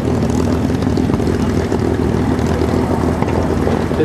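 Engines of a Boeing C-17 Globemaster III at an air show demonstration, a loud, steady, heavy roar with a deep rumbling drone and no break throughout.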